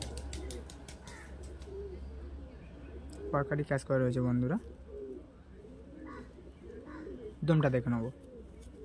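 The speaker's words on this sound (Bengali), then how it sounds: "বন্ধদমের পায়রা তাই তো?" Madrasi pigeons coo in two short throaty bursts close by, among faint chirps from other birds, while someone talks in between over a low steady hum.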